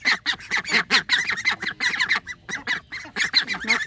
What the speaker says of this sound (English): Hello, duckies.